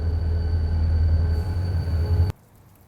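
A train rumbles past close by with a heavy low roar and a steady high whine, loud and continuous for over two seconds before cutting off abruptly.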